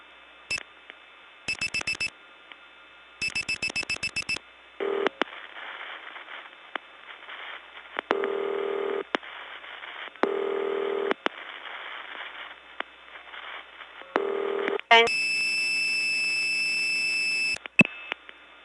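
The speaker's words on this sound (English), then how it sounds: "That was universal ringing again" A 1979 step-by-step tandem telephone exchange in Gainesville, Georgia, sending ringing down the line: repeated bursts of buzzing electronic ring tones with pauses and clicks between them, ending in a longer, brighter tone.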